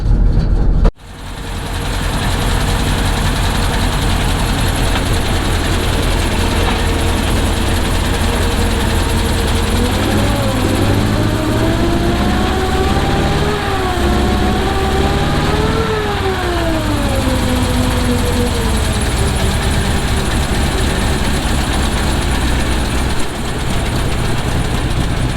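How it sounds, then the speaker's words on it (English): A rare Swedish military vehicle's engine runs on a freshly rebuilt carburetor, starting with a sharp catch and then holding a loud, steady idle with low rumble and shifting whine for the rest. "we're going to be putting this rebuilt carburetor onto the vehicle and seeing if it runs."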